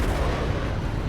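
Ship cannon fire from the Origin 325A in the space combat game Star Citizen, during a fight against a Vanduul swarm: a dense, continuous roar of rapid shots and booms, loud and close, with no talk.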